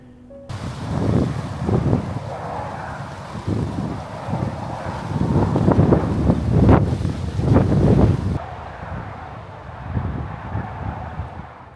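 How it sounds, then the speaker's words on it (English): Strong wind gusting through trees beside a parked motorhome during a high-wind storm, a loud continuous rushing roar that swells and eases, with heavy buffeting on the microphone and no talking. "See the wind blowing those trees."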